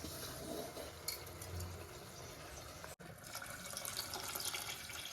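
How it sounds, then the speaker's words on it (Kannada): Water pours into a pot for egg biryani, a continuous splashing flow with a brief pause midway before resuming, fairly faint and without talk. "ನೀರು ಹಾಕೋಬೇಕಾ? ನೀರು ಹಾಕೋಬೇಕು."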